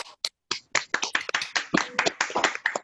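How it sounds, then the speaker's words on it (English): An online audience claps in a scattered, uneven patter of many separate hand claps, fairly close and lively, lasting a few seconds with no speech. "give Andrew the round of applause that he really deserves"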